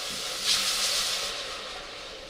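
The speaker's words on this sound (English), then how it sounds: "this is where it's going to start steaming here. White vinegar straight into it." White vinegar is poured straight onto a hot stove. It gives off a loud, steady hiss of steam that stays strong and close and fades only slightly over the couple of seconds.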